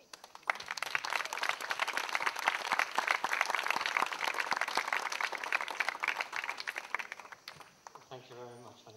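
Audience applause at a conference photo exhibition opening for field office staff, sustained dense clapping for about eight seconds before it tapers off and a voice begins speaking.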